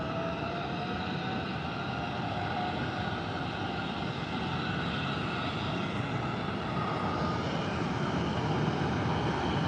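Steady, continuous aircraft engine roar at San Diego Airport as planes take off and land, a broad sustained rumble with a faint whine, fairly distant and unbroken, with no voices.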